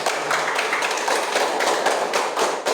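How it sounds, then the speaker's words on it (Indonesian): Pupils in a classroom applaud in a brisk burst of close, crisp clapping that swells in uneven waves for a couple of seconds. "Iya, terima kasih, tepuk tangan"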